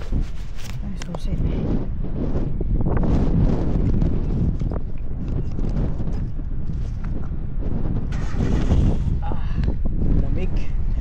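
Strong wind buffeting the microphone in a continuous rough roar, with gusts swelling and easing throughout, in cold drizzle in New Zealand.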